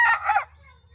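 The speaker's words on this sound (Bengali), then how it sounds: "মুরগি সব এই জায়গায় ঘাস খাইতেছে।" A free-range desi rooster crows once, loud and close, in a short bright burst that cuts off quickly, leaving a faint low rumble of background noise.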